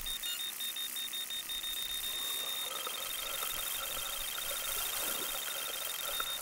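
A mobile phone rings steadily in a quiet room, with a repeating electronic ringtone holding through the whole stretch over faint background hiss.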